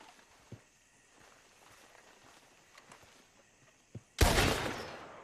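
A gunshot in Red Dead Redemption 2, one loud sharp blast near the end with a decaying tail, preceded by faint scattered footsteps and small thumps in a quiet scene.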